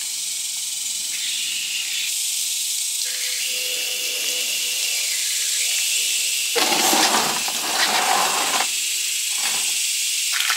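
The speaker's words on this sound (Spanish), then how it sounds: "Le voy a echar agua en mi planta de tomate." Water streams onto a backyard tomato plant in a steady, close hissing spray that swells into a louder, rougher gush partway through before easing back, with no voices.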